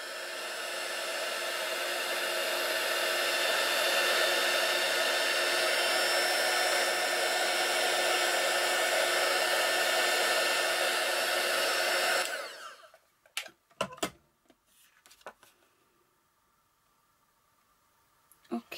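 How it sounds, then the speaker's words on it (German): A hair dryer blowing hot air for heat embossing roars steadily and close for about twelve seconds, then cuts off. A few faint clicks and handling noises follow. "Und dann föhne ich zuerst von unten einmal ein bisschen an."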